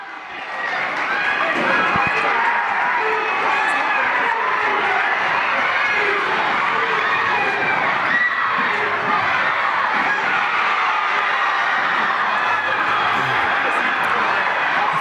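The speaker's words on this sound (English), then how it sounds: "The crowd's into it now." A crowd at a high school boys basketball senior night game, Norristown against Cheltenham, roars and cheers continuously in a gym, loud and sustained with shouts and scattered voices mixed in.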